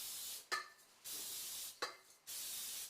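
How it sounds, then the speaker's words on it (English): Baker's Joy nonstick baking spray hisses onto a cake pan over a sink in three long, steady bursts, separated by brief pauses with the click of the can. "So I will spray the pan first."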